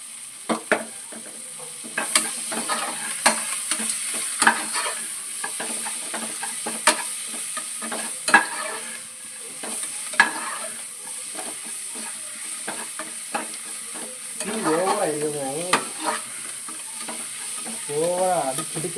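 Tomatoes frying with cloves and cardamom in a pan for chicken biryani, a steady bright sizzle with repeated scraping stirs and occasional louder spits, close and without talk.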